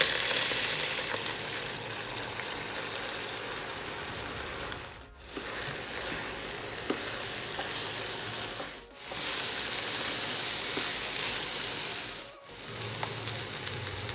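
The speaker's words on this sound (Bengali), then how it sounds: "আমি যে চালটা ঝরাই রাখছিলাম সেটা দিয়ে দিচ্ছি" Drained rice going into a hot pot with bay leaves and green chilies for kacchi biryani: a loud, close, steady sizzle and hiss that drops away briefly three times before resuming.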